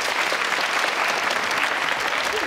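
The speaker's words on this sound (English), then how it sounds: "Give these two a round of applause." An audience at a student loans and cost of living talk breaks into steady, dense applause, a continuous wash of many hands clapping together at even volume throughout.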